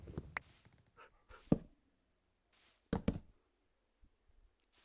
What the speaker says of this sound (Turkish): Eve köpek kendi girmiş.